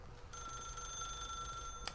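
An old-fashioned telephone rings in the video game The Stanley Parable, a steady, bright bell trill running continuously at moderate volume over a low room hum.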